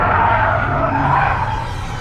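Tires squeal in a sustained, loud skid while driving a Ford Mustang Mach-E or Mercedes B 250 e electric car, a steady screech with low road rumble beneath and no talk over it.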